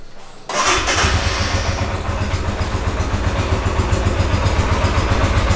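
A motorcycle engine cranks and catches after a quiet half second, then settles into a loud, close, steady rhythmic idle with a pulsing low thump that continues to the end.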